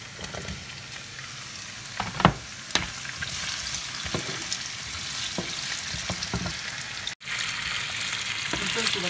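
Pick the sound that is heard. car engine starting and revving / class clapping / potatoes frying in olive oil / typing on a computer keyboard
potatoes frying in olive oil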